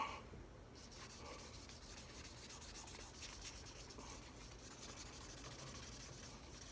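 Lacquer is sanded off the neck of a Stratocaster guitar with long, smooth strokes, making a faint, steady, close abrasive rubbing hiss that continues without a break throughout.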